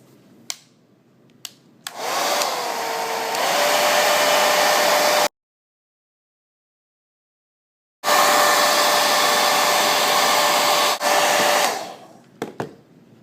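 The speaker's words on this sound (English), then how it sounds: "take a blow dryer and blow dry the sides until it's warm" A handheld blow dryer runs to warm a carbon-fibre skin on a MacBook Pro, a steady loud whir in two long bursts separated by a pause, with faint clicks before and after.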